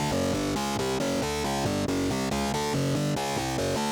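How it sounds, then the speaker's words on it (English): A keyboard plays an atonal sequence of interweaving notes as straight, even eighth notes, loud and close, running steadily without a pause or voice. "If I just take the rhythmic element out and just play it as straight eighth notes, it sounds like this."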